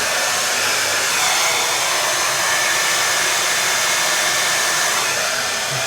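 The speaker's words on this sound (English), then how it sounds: "Let's have a little go with the hairdryer." A hairdryer blasts at close range over a men's non-surgical hair replacement system, a loud continuous roaring airflow that holds steady without a break.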